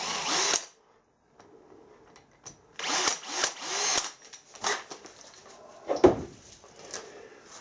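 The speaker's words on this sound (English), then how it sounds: "we'll just start the drill." A power drill drilling bronze whirs in several short bursts with gaps between, mixed with metallic clinks and handling noises, close and fairly loud.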